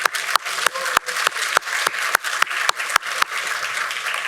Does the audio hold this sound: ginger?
no